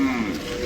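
Cattle moo near a temple in Suthumalai, where many cows of different breeds gather; a single short, fairly close moo with no talk.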